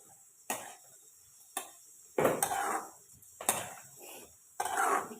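Mutton goes into a pot with garlic and gets stirred, giving a few sharp, separate clanks of a utensil against the metal pot, spaced a second or so apart, with quiet gaps between.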